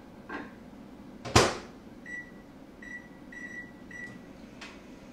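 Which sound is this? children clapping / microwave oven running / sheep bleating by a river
microwave oven running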